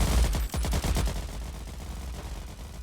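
Machine guns rattle in the Ratten Reich World War strategy game. Several sharp, loud bursts come close together in the first second, then the firing trails off into a rumbling battle ambience.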